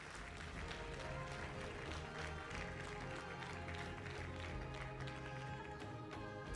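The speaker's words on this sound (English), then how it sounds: "All right, another beautiful round of applause." Audience applause fills the room at a business forum opening ceremony, a continuous wash of clapping mixed with crowd noise and a voice over it, steady and fairly distant throughout.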